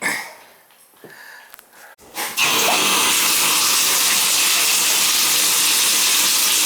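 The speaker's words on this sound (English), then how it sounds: "see the spout pipe leaking" Water gushes from a leaking shower spout pipe, a sudden loud steady hiss of spray starting after a few quiet, faint seconds and continuing at close range.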